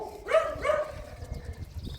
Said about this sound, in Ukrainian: Це тільки собаки гавкають на нас.